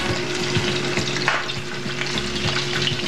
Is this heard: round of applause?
no